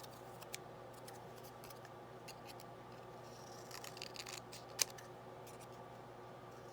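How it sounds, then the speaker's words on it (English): Scissors snip through fabric scraps in a quiet room, a few faint, crisp cuts and clicks close by over a low background hum. "Just start randomly cutting some pieces, okay?"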